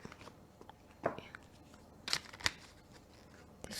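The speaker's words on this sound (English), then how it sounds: "it's the same card as last time, so I'm gonna shuffle first" Tarot cards being shuffled by hand, a soft papery riffling with a few sharper snaps and flicks, fairly quiet and close, with no talking.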